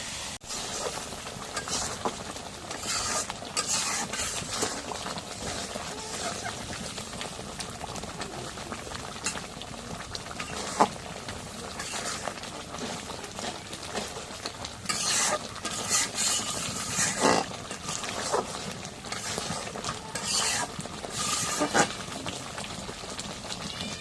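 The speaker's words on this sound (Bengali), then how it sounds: "এখন সব মশলা দিয়ে হয়ে গেছে এখন নাড়া দেবো" Goat meat curry with turmeric, chili powder and salt being stirred in a pot, a steady bubbling sizzle with scraping stir sounds throughout, moderately close and continuous.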